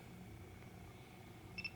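A quiet room hum, then near the end a brief, faint electronic double beep and soft shutter click from a Panasonic DMC-ZS1 digital camera taking a picture.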